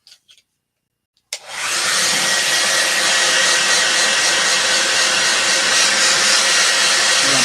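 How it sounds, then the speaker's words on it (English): A handheld blow dryer roars on abruptly after a brief silence, then holds a loud, steady, close-up rushing blast of air without letting up. "I don't have a paint gun, so I use my blow dryer."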